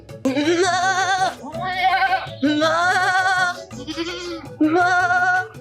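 A goat bleats loudly and close up, several long wavering cries in quick succession with short gaps between.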